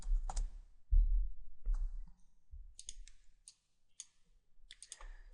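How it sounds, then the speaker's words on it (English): Sharp computer clicks and a few quick keyboard taps, close and fairly quiet, spaced irregularly with brief silences between them. "I'm going to right click and set the number 0"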